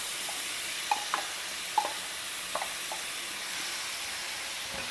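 Ground chutney sautés in hot oil with mustard seeds, dry red chilli and hing, giving a steady close sizzle and hiss with a few light taps and stirring clicks throughout.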